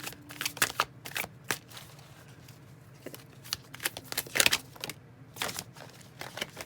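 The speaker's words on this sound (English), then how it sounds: "Bunch of cards trying to fall out." A deck of tarot cards being shuffled: a run of crisp, papery riffles and slaps in irregular bursts, close and moderately loud, with no voices.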